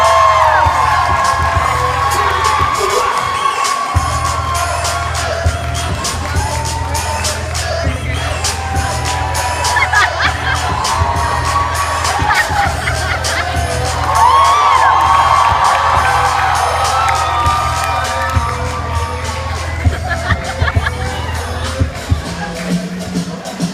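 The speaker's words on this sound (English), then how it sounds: "let's give a huge round of applause up here" A hypnosis show audience cheers, whoops and shouts continuously and loudly, with crowd noise swelling around the middle, over a steady low hum.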